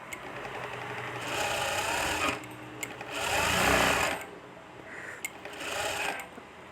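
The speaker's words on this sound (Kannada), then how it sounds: "ಅಲ್ಲಿಂದ ಸ್ಟಿಚ್ ಹಾಕ್ಕೊಂಡು ಹೋದರೆ ಸಾಕು" A sewing machine stitches thread piping onto a blouse piece in three steady whirring runs of a couple of seconds each, separated by brief pauses and small clicks, close up with no talking.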